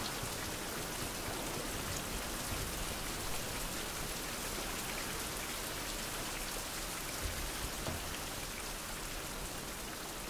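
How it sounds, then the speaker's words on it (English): Steady rain pours down in a survival video game, a dense, even hiss of falling drops that continues without a break, with no talking. "And we got the rain."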